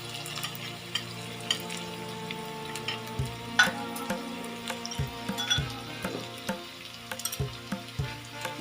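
Chopped garlic and green chili fry in a pan with a continuous sizzle, broken by frequent stirring knocks and scrapes against the pan.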